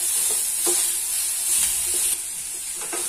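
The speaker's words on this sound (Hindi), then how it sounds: "इसके बाद लहसुन अदरक का एक चम्मच पेस्ट लेंगे, थोड़ा सा इसे भूनेंगे।" Garlic-ginger paste with chopped green chili frying in a pan, a steady bright sizzle throughout with a few soft stirring scrapes, close and fairly loud, no talking.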